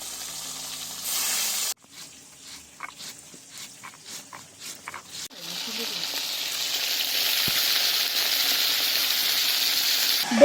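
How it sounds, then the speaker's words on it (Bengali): Hilsa fish for a Bengali eggplant and hilsa curry fry lightly in hot oil. After a few seconds of quiet shuffling, a soft, even sizzle starts and builds gradually, staying steady to the end. "হালকা হালকাভাবে ভাজবো"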